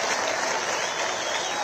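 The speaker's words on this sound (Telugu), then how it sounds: "భూపేంద్ర యాదవ్ గారికి గట్టిగా చప్పట్లు కొట్టానా" Sustained, dense audience applause from a crowd at a political rally, steady and fairly loud throughout without pauses.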